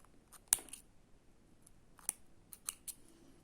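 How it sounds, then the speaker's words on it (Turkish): Small scissors snip thread during Turkish needle lace work on a rose-pattern edging, several sharp, quiet close-up clicks spaced irregularly over a few seconds. "Daha sonra buradan ipimi kesiyorum."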